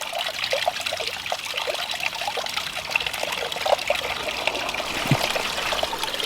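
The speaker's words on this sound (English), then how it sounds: "We're getting a lot of splatter from the waterfall." Garden waterfall with a 12-inch spillway filter splashes and splatters continuously, a close, steady trickling and pattering of falling water with no voices.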